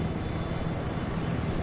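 A helicopter in the video game Battlefield 4 flies through a narrow street between buildings, its engine and rotor making a steady, dense droning rumble with no talk.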